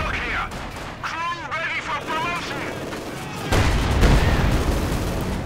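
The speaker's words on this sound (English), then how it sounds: "Oh, sets off the teller mine." A Teller mine detonates in the strategy game Company of Heroes 2, a sudden loud blast that rolls on as a broad rumble while commentators talk over the battle sounds.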